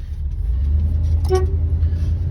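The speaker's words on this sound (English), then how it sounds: "Horn works." A 1972 Plymouth Satellite gives one short horn toot, close and clear, over the steady low rumble of its idling engine.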